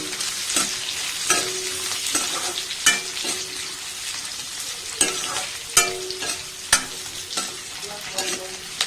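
Onions fry in hot oil for an Assamese duck and ash gourd curry, steady close sizzling with sharp, irregular scrapes and knocks as a spoon stirs them around the pan.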